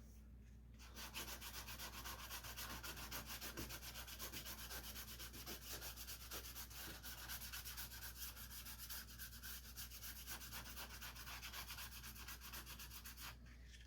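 Steady sanding on the door jamb of a 1951 Chevy truck, working down a raised ridge with a continuous close, loud scratchy rub that runs the whole stretch with no talk.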